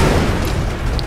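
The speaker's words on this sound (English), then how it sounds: "That was a huge explosion." A huge IED explosion during a village attack in Far Cry 2 booms out as a loud, sustained low rumble with a broad roar filling the whole moment.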